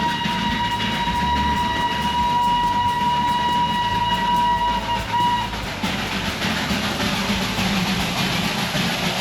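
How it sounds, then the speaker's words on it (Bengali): Heritage steam engine toy train in Darjeeling, a loud nearby rumble of engine and rolling wagons with a sustained whistle-like tone early on, then continuing mechanical clatter. "হয়তোবা আপনার পাশ দিয়েই কুঝিকঝিক আওয়াজ করে চলে যাবে হেরিটেজ স্টিম ইঞ্জিন"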